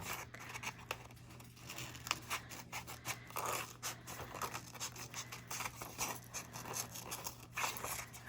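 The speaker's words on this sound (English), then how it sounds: "We're gonna cut it out just in the right outline." Scissors snipping out paper shapes for a handmade junk journal, with steady close crisp cuts and light rustling of the paper, with no talking.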